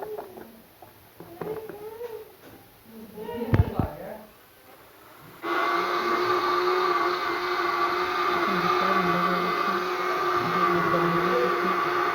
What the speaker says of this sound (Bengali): দুধটাকে আমরা ব্যালেন্ডার করে নেবো এটার সাথে দিয়ে মিক্সার করে নেবো ভালো মতো মিক্সার করে নেবো